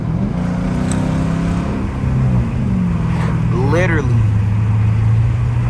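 Straight-piped Dodge Charger R/T doing a burnout nearby, a loud steady exhaust drone that dips around two seconds before swelling again, with a voice talking over it.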